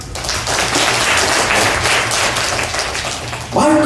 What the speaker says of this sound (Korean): 우리 모두를 위해서 박수 한번.